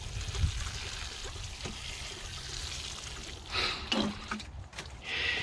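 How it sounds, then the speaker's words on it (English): Water mixed with worm tea splashes and trickles in soft bursts onto potting soil mix, close by and fairly quiet. "So I'm gonna water this in."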